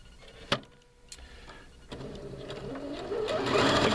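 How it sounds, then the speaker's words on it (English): A Pfaff sewing machine with its dual feed disengaged stitches fabric: a sharp click at the start, then a soft mechanical whir that starts and builds steadily louder and faster, heard up close. "it is now just like any other sewing machine"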